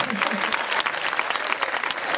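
Warm audience applause at an open-air theatre concert in Giannitsa, dense continuous clapping filling the space throughout.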